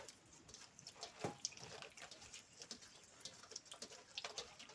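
Small mandeli fish being rinsed by hand in clean water in a kitchen, with close, irregular splashing and sloshing, soft trickles and a few sharper splashes over about five seconds, no talk.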